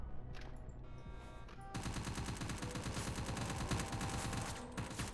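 Gunfire in a Roblox video game comes in rapid automatic bursts: a few scattered shots at first, then a dense, continuous spray of loud fire with no talking.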